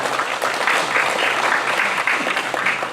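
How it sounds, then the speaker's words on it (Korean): An audience claps steadily and fairly loudly throughout at the close of a research project report, a dense even wash of applause with no talk over it. "이분들께 박수로서 감사를 표현하고"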